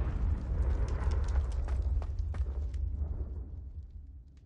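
A Confringo spell explosion in a Harry Potter video game gives a deep, rumbling blast with crackling bursts that slowly fade out over a few seconds.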